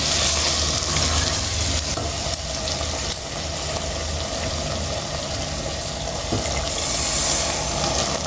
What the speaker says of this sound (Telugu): ఇప్పుడు మనం వాటర్ వేసేసుకుందాం